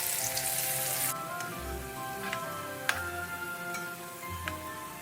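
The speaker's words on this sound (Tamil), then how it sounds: "நான் இந்த பன்னீர் துண்டுகளை ஒவ்வொன்றா போட்டு பொரிச்சு எடுக்க போகிறேன்." Paneer pieces deep-frying in hot oil over a medium flame, a steady close sizzle with occasional sharp ticks and pops.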